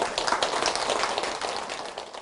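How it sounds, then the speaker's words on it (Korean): Audience applause at a Buddhist monk's question-and-answer talk, a dense patter of many hands clapping steadily and then thinning slightly toward the end, with no voices over it. "박수 한번 드리세요"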